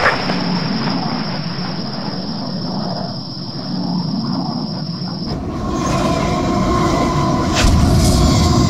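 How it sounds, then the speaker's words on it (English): A train rumbles along in a Project IGI game cutscene, a loud continuous roar with rail noise that grows heavier partway through, and no voices over it. "We have visual contact with the train. Stop that train!"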